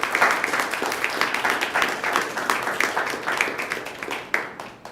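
A lecture audience breaks into warm, steady applause to welcome a speaker to a talk on soaring, cryptography and nuclear weapons, with dense clapping sustained at an even level for the whole span before tapering slightly at the end.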